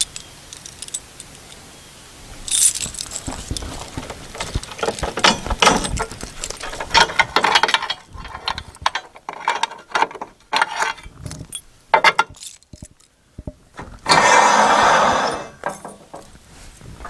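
Keys jangle and rattle in a lock while a storage shed door is unlocked at a rural sawmill site, a mix of close metallic clinks and handling noise with a louder burst of rattling near the end.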